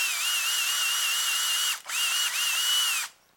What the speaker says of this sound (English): So I went ahead and drilled that